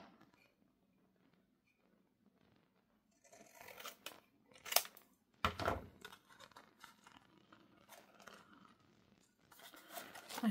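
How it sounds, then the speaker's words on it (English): Paper being cut with scissors while trimming pieces to glue into a weekly planner, a quiet stretch followed by several close crisp snips and rustles at an irregular pace. "Not enough, so I must cut a little bit more."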